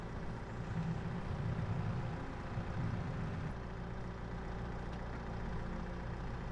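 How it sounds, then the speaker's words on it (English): Small tractor idling in Farming Simulator 22, a steady low engine rumble that holds evenly throughout with a slight shift in tone midway and no voices. "I do love that little tractor though."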